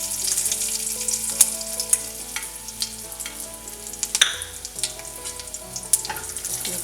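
Curry leaves, green chilies and turmeric fry in a pan for bread poha, giving a steady bright sizzle with scattered crackles and stirring clicks. Soft background music plays throughout.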